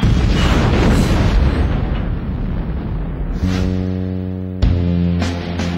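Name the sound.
explosion of bombs planted under the general's car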